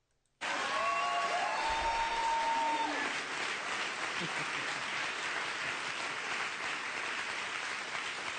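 Loud, sustained applause from a played recording bursts in abruptly after a brief silence and holds steady as a dense wash of clapping.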